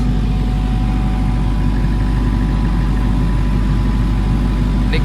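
A Denyo 30 diesel generator set runs under a load test with a steady, loud, continuous engine drone and a deep low hum, unchanging throughout.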